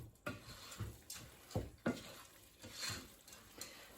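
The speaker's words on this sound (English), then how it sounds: "And then stir it round." A spoon stirs mushroom and leek risotto in a pan, producing soft, irregular scraping and clinking strokes at close range, faint and without speech.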